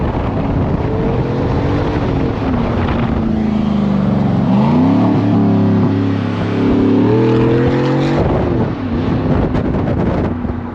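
A Chevrolet Silverado pickup's engine revs in rising and falling sweeps, loud and close, with some wind buffeting the microphone.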